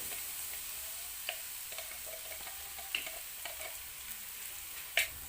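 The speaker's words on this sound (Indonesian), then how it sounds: "Tumis bumbu hingga benar-benar matang supaya rasanya enggak langu." Ground spice paste sautés in cooking oil in a pan with a soft, steady sizzle. A few sharp clicks of stirring cut through now and then, and nobody speaks.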